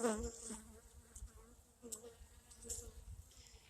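Honeybees buzz steadily around an opened hive early in the year, a dense humming drone with a few louder passes close by and faint movement underneath.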